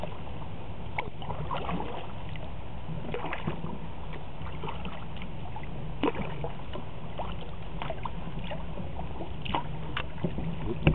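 A kayak paddled along the Mattaponi River on a gray, cloudy day: soft, irregular splashes and drips from the paddle blades over a steady wash of moving water, fairly close.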